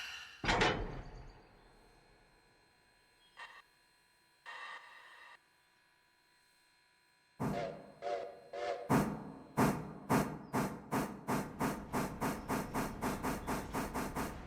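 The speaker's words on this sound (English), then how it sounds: "set all the air brakes." A train's air brakes are set while it stands on a hill, giving a sharp hiss, scattered bursts, then a long series of rapid rhythmic pneumatic puffs that slow and fade, loud and close.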